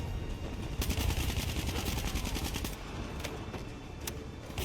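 Rapid automatic gunfire from Call of Duty: Black Ops 3, loud sustained bursts of machine-gun fire with a few sharper single shots toward the end, over a dense rumbling game background.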